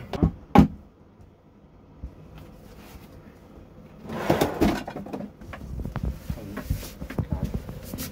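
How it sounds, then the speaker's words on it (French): A camper van drawer is opened after a door panel is removed: a sharp knock early on, then a longer stretch of sliding, rattling and clunking at close range with no talk. "Pour pouvoir ouvrir le tiroir."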